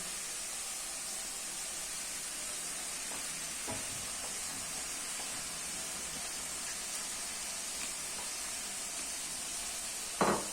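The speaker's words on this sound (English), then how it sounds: "now putting the onions in" Onions fry in a wok for homemade chicken curry, giving a dense, even hiss of sizzling that runs throughout, with faint stirring scrapes and one brief clatter near the end.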